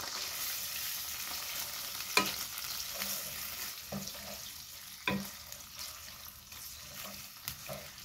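Dried phewa fish (shutki) frying in a pan over low heat, giving a steady soft sizzle with occasional sharper stirring scrapes and clicks, close and alone without talk.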